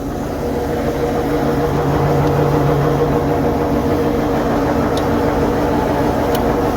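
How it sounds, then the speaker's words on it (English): Tractor engine idling and running steadily on a farm during bagging work, a continuous low droning rumble with a tonal hum, close by and unbroken, with no talk over it. "All right, Donovan's in the tractor now"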